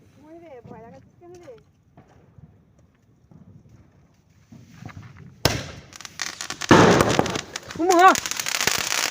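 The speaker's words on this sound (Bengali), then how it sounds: "বাজি ফাটানো শুরু করছি" New Year firecrackers and fireworks burst suddenly after quiet talk, a loud, dense crackle of rapid pops and bangs with voices calling out over the noise.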